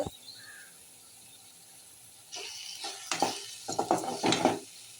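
Tomato and meal maker gravy simmering in a pan, starting as a quiet, steady low hiss for about two seconds before loud, close, irregular stirring and scraping bursts take over and continue to the end, with no talking.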